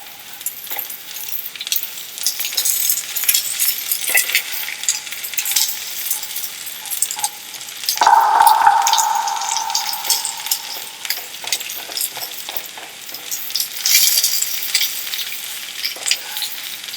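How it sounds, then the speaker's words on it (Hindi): Three chopped onions fry in hot oil over a lowered flame for crispy arbi piyaza, giving a steady, close sizzle throughout with a brief ringing tone midway and no voices. "जो हमने 3 प्याज काट के रखे हुए थे"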